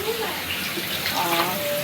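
A switched-on tap runs steadily in a Melaka boutique hotel room with a private pool, a soft continuous gush of water under a child's and adults' voices.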